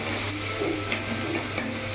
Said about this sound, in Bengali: পেঁয়াজটা একটু ভাজা ভাজা নি